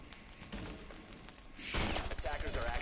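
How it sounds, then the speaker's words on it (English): Gunfire from a wallbang shot in the video game Rainbow Six Siege, heard as a dense burst of loud, rapid shots that swells toward the end over continuous game noise. "that wall bang by Echo, but will be saved by that Montagnier"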